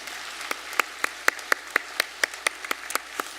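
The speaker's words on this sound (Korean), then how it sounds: "우리 박수로 환영하도록 하겠습니다" Sharp, evenly spaced claps ring out at a Sunday church service as a congregation welcomes new members, in a steady rhythmic beat over a quiet room, with no talking.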